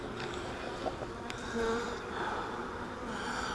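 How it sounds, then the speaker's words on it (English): Honey bees buzzing in a sparsely populated beehive during an inspection, a soft continuous hum with a few brief louder passes close by. "there's not that many bees in this hive"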